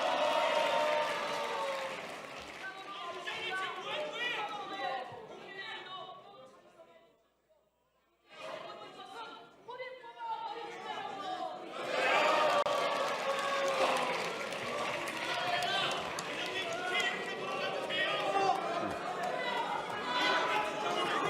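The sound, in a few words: shouting and applause in the National Assembly plenary hall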